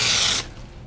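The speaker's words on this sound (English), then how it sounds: "I'm gonna grab my hose right here. Okay, and I'm gonna start spraying one more time." A garden hose sprays water onto a car's glass, a brief loud hiss that cuts off abruptly after about half a second, leaving faint residual noise.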